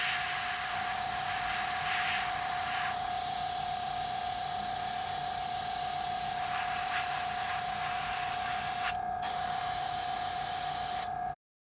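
Steady hiss of an airbrush spraying paint onto a Tamiya 1/48 F-14A Top Gun model kit, continuous and close with a faint steady whine, cutting off briefly near the end before stopping.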